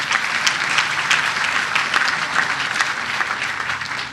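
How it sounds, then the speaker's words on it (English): Crowd applause at a ribbon-cutting ceremony for a building opening at the Brooklyn Navy Yard, a steady wash of many hands clapping outdoors at moderate volume, continuous throughout. "that does deserve a round of applause."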